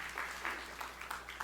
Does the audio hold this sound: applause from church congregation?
yes